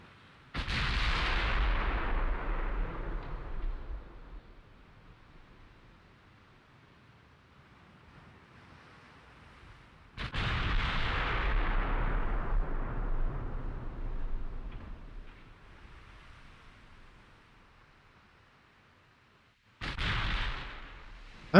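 Naval gunfire in the game Ultimate Admiral Dreadnoughts, including 15-inch guns: three heavy booming salvos about ten seconds apart, each with a long rumbling decay, loud with no voices.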